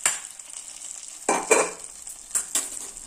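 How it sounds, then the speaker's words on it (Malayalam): Hot tempering of onion, garlic and mustard seeds poured onto cooked tapioca, giving a steady close sizzle with sharp crackling bursts as the oil hits, strongest in a few loud surges near the end. "ഉള്ളിയും വെളുത്തുള്ളിയും കടുക് പൊട്ടിച്ചതിന് ശേഷം നമ്മളിത് ഈ കപ്പയ്ക്കകത്തോട്ട് അങ്ങ് ഒഴിക്കണം."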